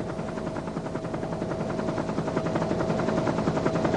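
During a helicopter landing in dense jungle, snipers open fire: a loud, steady rotor thrum runs throughout, with rapid rattling bursts of gunfire layered on top, growing slightly stronger toward the end.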